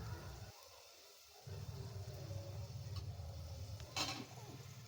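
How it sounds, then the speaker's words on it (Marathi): Onion with ginger and garlic paste sautéing in a pan for mutton soup, a low steady sizzle with spoon stirring and a couple of sharp clinks against the pan. "आता हे मिश्रण चांगलं परतून घ्या"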